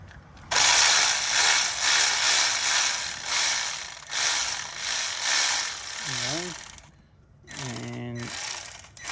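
A ratchet loosens a 16mm bolt on the idler tensioner of a Jeep Wrangler during a serpentine belt replacement, loud close rapid clicking in steady bursts, with a voice speaking briefly near the end.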